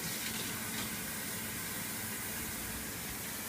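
Running water from a tap splashing into a sink as a hookah base is washed, a steady hissing rush throughout at moderate level, no speech.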